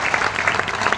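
An audience applauds to welcome guests at a Sunday seminar in Ahmedabad, with dense, steady clapping throughout, close and fairly loud.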